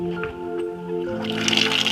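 Pressurized water sprays and hisses from a gravity-fed chicken drinker line in steady bursts, close and fairly loud, with no talking.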